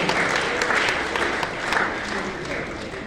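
Audience clapping at a Rotary and Inner Wheel club Doctors' and CA Day function in Dhamtari, a steady wash of applause throughout with voices mixed in underneath.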